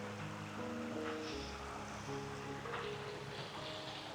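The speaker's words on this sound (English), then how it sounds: "Hopefully you can hear that beautiful sound of the water." River water flows under Fingle Bridge on Dartmoor, a steady, faint, broadband rush with no breaks and no voices.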